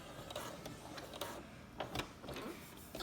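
A sewing machine stitches along the seam of a fabric face mask in short, quiet mechanical bursts with brief pauses between runs, close but faint.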